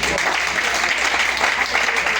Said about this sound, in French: Je veux qu'on applaudisse pour lui.